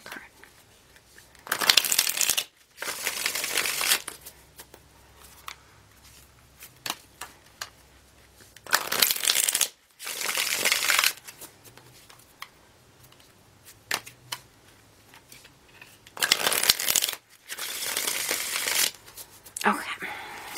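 Tarot cards shuffled in several loud, crisp riffling bursts of a second or two each, separated by short pauses.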